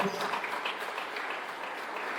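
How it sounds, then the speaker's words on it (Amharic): A church congregation applauds for a short spell, a soft, even patter of many hands heard from a distance, with faint voices mixed in. "ሲከም ለጌታ አጨብጭቡ፣ ደስ ብሏችሁ።"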